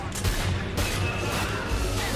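Gunfight from the John Woo action film Face/Off, a rapid series of loud sharp gunshots cracking out one after another, with faint voices beneath.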